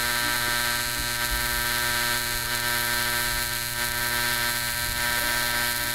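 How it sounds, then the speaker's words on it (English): Aluminium is TIG welded at working speed, a constant loud electric buzz with steady tonal hum lasting unbroken throughout. "this is just a real time weld"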